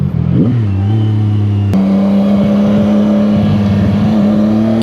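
A motorcycle engine drones loudly and steadily while riding, its pitch rising briefly early on and then holding, with rushing wind noise underneath and no talking.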